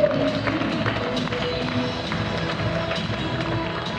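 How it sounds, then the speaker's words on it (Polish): Stadium crowd clapping and cheering for the youngest Tenis 10 tennis players during a demonstration at the Davis Cup in Warsaw, 2012: a dense, steady wash of applause with crowd noise filling the whole stretch. "Poproszę o gorące brawa dla naszych najmłodszych tutaj uczestników tego pokazu"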